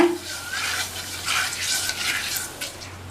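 Chili powder, turmeric and salt stirred in a pan over a low flame for a kulambu, soft scraping swishes in a few strokes over a low background hum, fairly close.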